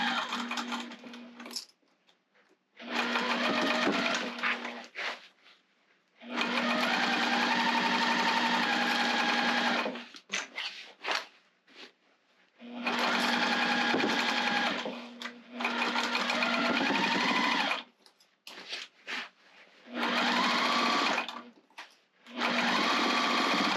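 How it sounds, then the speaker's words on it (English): A sewing machine stitches over basket handles in bursts, several loud whirring runs of a few seconds each separated by brief pauses, close and clear. "I'm sewing over those handles again"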